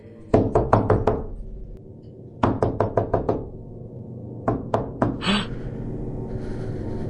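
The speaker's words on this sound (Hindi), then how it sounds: "गेट खटखटाने का आवाज" Someone knocks on a door in three quick bursts of four to six loud, sharp raps each, separated by short pauses. The knocks are close and ring clearly over a quiet background with no talking.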